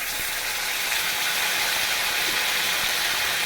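Continuous loud hiss and sizzle of bay leaf, chilli and spices frying in hot oil, steady and close, with no voices.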